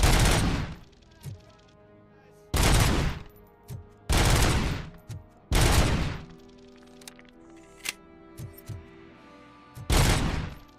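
Sniper gunfire in the video game RoboCop: Rogue City: five loud, sharp shots spaced a couple of seconds apart, each with a short booming tail, and quieter clicks and mechanical sounds between them.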